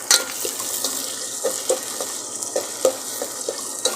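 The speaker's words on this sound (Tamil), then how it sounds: "இப்போ தக்காளியை போட்டுக்கலாம் வெங்காயம் நல்லா வதங்கிடுச்சு பாருங்கள்" Onions frying in a pan for chicken curry, a steady sizzle under repeated stirring scrapes and clinks at irregular intervals, close and without talk.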